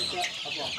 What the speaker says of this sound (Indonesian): ayam kampung di peternakan Pak Mirsal ini